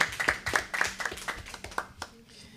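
Applause at the opening meeting of an anti-discrimination commission, a thin scattering of hand claps that starts brisk and fades out within a few seconds, fairly faint, with no talk over it.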